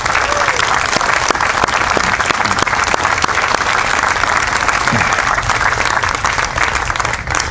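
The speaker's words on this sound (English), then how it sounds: "Please, everyone, join me in a big round of applause for all these great professionals." Loud, dense applause from a large audience at a brigade change of command ceremony, sustained and even across the whole stretch, with sharp individual claps standing out near the front.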